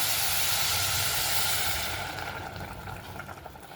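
Hot water poured into a pan of cooking dal, shepu dal made with dill leaves, sets off a loud, close, rushing hiss of steam that fades over the last couple of seconds into a softer bubbling simmer.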